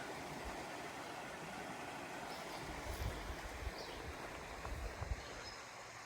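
Creek water runs steadily along the Ouachita Trail, a continuous broad rushing wash with a few slightly louder surges, heard alone with no voices.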